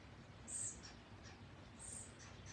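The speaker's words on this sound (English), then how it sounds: "It sounds like redheaded woodpeckers." Red-headed woodpeckers give two short, high, faint calls about a second apart over quiet outdoor background noise.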